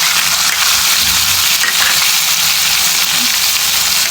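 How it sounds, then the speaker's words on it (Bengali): Onion, chopped chili, chopped tomato, ginger, garlic and cumin paste frying in hot oil, a loud, dense, continuous sizzle and hiss with faint stirring, no talk. "তেলের মধ্যে এখন দিয়ে দেবো পেঁয়াজ, মরিচ কুচি, টমেটো কুচি, আদা, রসুন, জিরা বাটা।"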